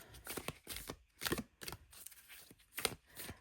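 A deck of oracle cards is shuffled by hand, a quiet close series of crisp riffling and sliding bursts in an irregular rhythm with short gaps between.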